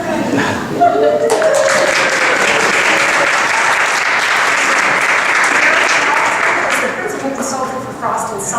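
Sustained, loud audience applause fills a tech industry meetup on mobile privacy, dense clapping holding steady throughout before thinning slightly near the end, with a few voices and light laughter mixed in.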